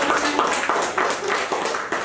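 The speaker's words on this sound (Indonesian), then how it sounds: "Tepuk tangan lagi." An audience claps together in a hall, a dense, steady burst of applause with a loose rhythmic pulse throughout, fairly loud and close.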